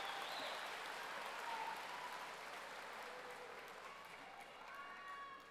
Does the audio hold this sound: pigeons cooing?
no